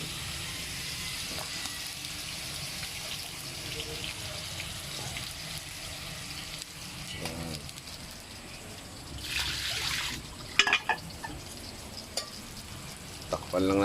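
Fresh fish frying in a pan: a continuous soft sizzle and crackle runs throughout, with louder splattering bursts and a few clattering knocks toward the end.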